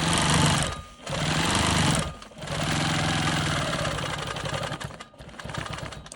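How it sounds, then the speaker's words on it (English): A Quilt Maker Pro 20 quilting machine runs loud and close, stitching in the ditch through a quilt block with a steady rapid mechanical hum, cut by a few short pauses as the stitching stops and restarts. "I'm just taking my time and I'm stitching in the ditch to stabilize the block"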